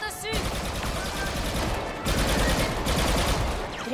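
Blaster gunfire from the video game Star Wars Battlefront 2, a dense, continuous barrage of rapid shots and explosions that stays loud throughout, with voices calling out over the battle.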